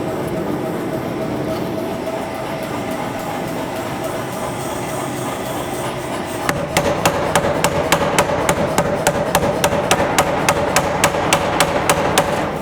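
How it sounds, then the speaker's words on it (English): Workshop machinery runs steadily with a constant mechanical roar, then a punch press stamping a logo into a steel throwing axe blank starts a rapid, regular train of sharp metallic clacks, loud and close. "we're gonna come over, logo on the punch press"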